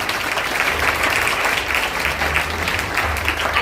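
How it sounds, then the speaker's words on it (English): An audience at a birthday celebration event gives a steady round of applause, dense clapping that continues evenly throughout with no talk. "Can we give them another round of applause?"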